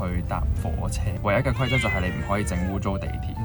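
A cat meows repeatedly in agitated, drawn-out cries from inside a carrier in a taxi in Korea while a person talks over it nearby.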